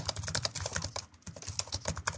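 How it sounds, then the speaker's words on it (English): Fast, steady typing on a computer keyboard, with dense, clattering keystrokes close up, loud and continuous with brief pauses, and no voices. "or typing on a keyboard."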